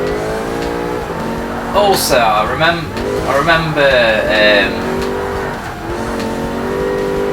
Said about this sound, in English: There you can see the car spinning out, reacting to the different surfaces